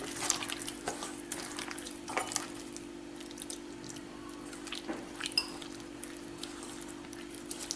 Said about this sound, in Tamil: இனிப்பு போதும், அதனால நான் தண்ணி சேர்த்துக்கிறேன்.